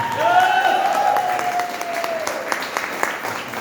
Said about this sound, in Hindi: प्रतिभा मैम के लिए एक बार जोरदार शानदार तालियां